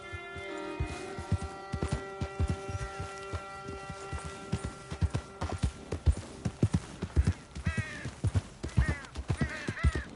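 A horse gallops in Red Dead Redemption 2, its hooves striking in a fast, loud, rhythmic clip-clop close by, with snorts and a few brief whinny-like calls over the pounding beat.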